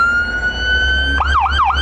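Emergency vehicle siren at a parade, loud and close: a steady high wail holds for about a second, then switches into a rapid rising-and-falling yelp that repeats three times over a low rumble.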